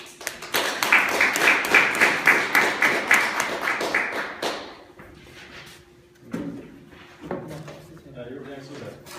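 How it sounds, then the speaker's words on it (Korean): Audience applause after a talk on design, a burst of rhythmic clapping from a small seated crowd lasting about four seconds, then fading into quieter room sounds and speech. "박수 주십시오."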